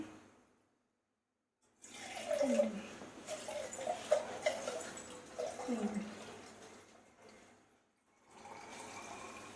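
Water is poured into a small pot during a Shravana Friday puja, sounding as an uneven, gurgling splash that swells in several bursts over a few seconds, set between quiet pauses.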